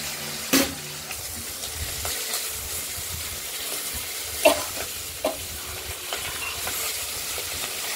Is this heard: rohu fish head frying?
yes